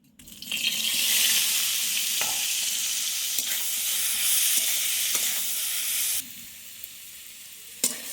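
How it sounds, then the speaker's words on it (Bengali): Boiled jackfruit and potato frying in oil in a pan make a loud, continuous sizzle. Occasional stirring scrapes and clicks break through before the sizzle drops suddenly quieter near the end. "সেদ্ধ করে রাখা এঁচড় আর আলু ভেজে আর"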